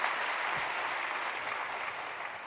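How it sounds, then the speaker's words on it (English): An audience at a European conference session gives its guests steady, dense applause that stays even and fairly loud throughout, with no talking over it. "A big round of applause to our guests."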